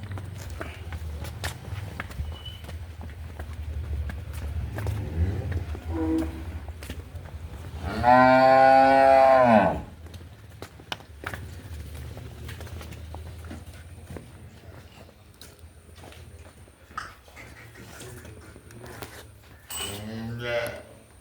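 Buffalo heifers at a dairy farm, with one loud, drawn-out harmonic moo standing out near the middle over a steady low hum, light shuffling steps and scattered farm noises.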